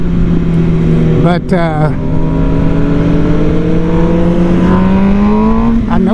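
An MV Agusta Brutale 1000 motorcycle engine rises in revs, with a sharp blip as it downshifts with a blip shifter, then pulls steadily upward, loud and close, while a rider talks over it.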